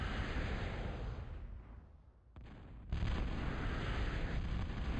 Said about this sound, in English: Why is EMAC shooting his Guardian